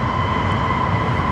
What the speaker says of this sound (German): Jetzt warten wir mal kurz, bis der Zug dahinter weg ist.